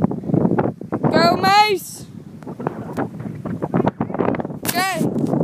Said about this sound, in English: Stupid wind. So windy.